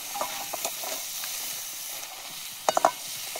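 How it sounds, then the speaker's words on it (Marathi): Crabs being stirred into masala in a pot while cooking outdoors on a hilltop, a soft continuous sizzle with scraping stir strokes and a few sharper clinks near the end. "चांगलं मसाल्यात मिक्स करून घेते"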